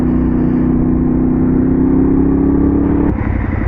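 A Yamaha XSR 700 motorcycle carrying a rider and a passenger holds a loud, steady engine drone at speed, then the tone drops slightly as it eases off near the end.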